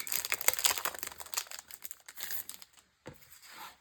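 Packaging around a journal is unwrapped and crinkled close by, with dense, crackly rustling bursts that thin out toward the end after a short pause.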